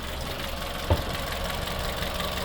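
An Opel Corsa engine with unstable idle speed idles with a low, even exhaust rumble and one brief thump partway through.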